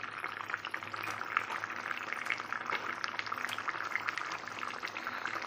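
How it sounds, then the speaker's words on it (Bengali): Thin pumpkin-leaf curry broth with small chara fish bubbles and simmers steadily in a pan as pre-fried fish pieces go in, a close, continuous crackling boil with no distinct splash and no talking. "এবার আমি ভেজে রাখা মাছগুলো দিয়ে দেব।"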